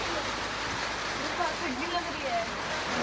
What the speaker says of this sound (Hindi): बहुत तेज बारिश आई है ना